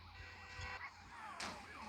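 A police car siren in the mobile game Payback 2 wails faintly through a busy, noisy game soundscape, its rising and falling tone partly masked by engine and ambient clutter, with no voices.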